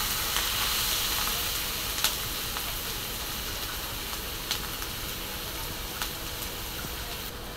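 Chopped onion with salt fries in a pan for egg bhurji, giving a steady bright sizzle throughout with a few faint pops and clicks.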